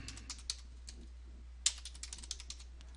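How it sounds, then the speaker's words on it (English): Computer keyboard typing at a steady, light pace with scattered quiet keystrokes and one sharper tap partway through, heard close up over a low steady hum. "And so I'm going to type in"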